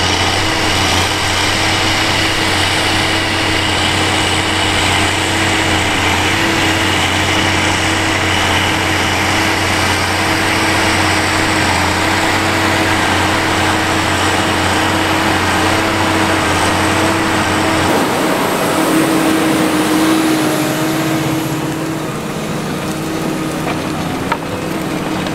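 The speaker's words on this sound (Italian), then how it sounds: "su queste macchine qua riesce a sentire il motore" A New Holland TM190 tractor's engine runs steadily under load while ploughing a field, a loud continuous drone with a constant mechanical whine that shifts and eases slightly near the end.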